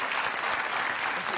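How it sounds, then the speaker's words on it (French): A television studio audience claps loudly for a guest, a brief, dense burst of applause that stays even from start to finish. "Allez, applaudissez Rio, s'il vous plaît."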